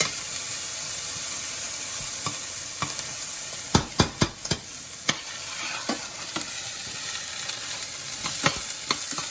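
Shrimp curry sizzles and fries in a pan while being stirred, a steady hiss punctuated by a cluster of sharp spoon clinks and scrapes in the middle and a few more near the end.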